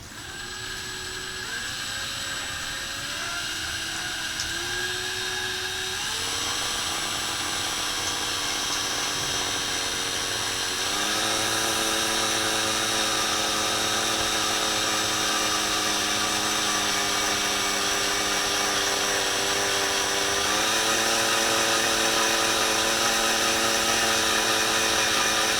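A power drill with a small bit whines steadily into a metal tube at low speed for a long stretch, its pitch stepping up and down as the bit bites, loud and close.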